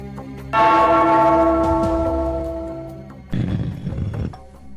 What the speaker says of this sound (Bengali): ওই ঘন্টাটা বাজাও, বাজাও।